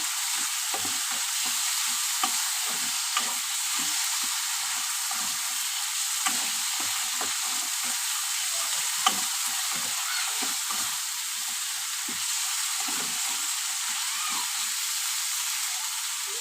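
Potatoes and spices fry in a pan with a steady, dense sizzle and hiss, punctuated by occasional faint crackles and stirring scrapes, close and continuous.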